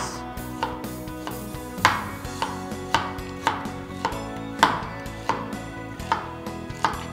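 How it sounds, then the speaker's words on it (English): A knife slicing onion on a board, with about a dozen crisp, evenly spaced chopping thuds in a steady rhythm, close and clear with no talking. "when you are slicing you need to cut them into half"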